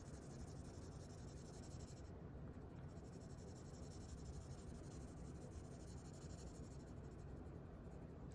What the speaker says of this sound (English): I'm just going to take my pencil and add a bit more shading to the outside edge.